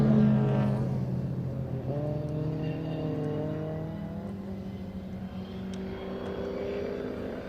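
Alfa Romeo Giulia race car driving toward the finish at Thruxton circuit, its engine note loud and sustained, rising and falling in pitch as it passes close by, with no voices.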